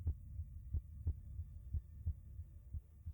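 A heartbeat sound effect over animation: soft, low, regular thumps, about three per second-and-a-half, evenly paced against a faint hum, quiet and alone without voices.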